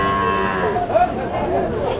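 A calf at a rural weekly cattle market gives a single drawn-out moo, loud and close, with a slight rise in the middle, alone for about two seconds.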